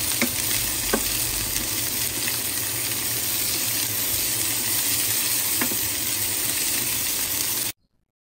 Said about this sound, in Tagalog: At pagkatapos po ng sibuyas, ilalagay na po natin ang ating ampalaya.